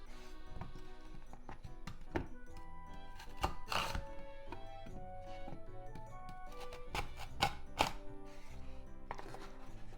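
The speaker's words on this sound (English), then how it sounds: "Cut into 4 long way." Lotus root with dried ends trimmed being cut lengthwise into quarters on a cutting board, a quiet run of irregular knife thunks and taps, close and sparse.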